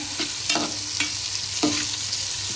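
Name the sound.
tomatoes sautéing in a pan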